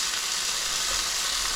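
Onions browning in a hot pan give a steady, dense sizzle and crackle, close and even throughout with no voices.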